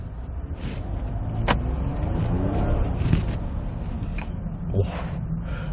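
A used Hyundai Grandeur HG 300 Noble with a 3.0-litre petrol engine accelerates on a test drive. Steady engine and road rumble fill the cabin, and a few brief clicks and knocks cut through it.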